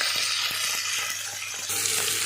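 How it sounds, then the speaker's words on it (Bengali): Green chilies and bay leaf fry in hot oil with five-spice seasoning, a continuous loud crackling sizzle with soft periodic knocks, intensifying briefly near the end. "ফোড়ন দিয়ে দিয়েছি, কাঁচা লঙ্কা, তেজপাতা, এটা একটু ভেজে নেবো"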